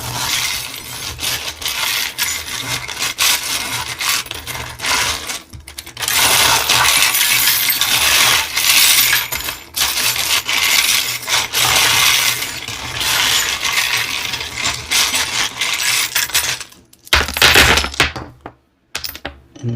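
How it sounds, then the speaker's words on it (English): Small metal charms clatter and clink together in hands during a pick-a-card charm-casting reading, a dense continuous rattling with brief pauses and a final few sharp clicks, close and fairly loud. "let's shuffle up your charms and get into it"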